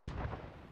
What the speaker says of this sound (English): It appears there's enemy mortar going on, so we need to get their location.